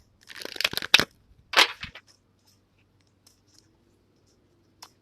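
A quick burst of riffling flutter from shuffling an angel oracle card deck, followed by a second short ruffle, then near silence with a couple of faint clicks.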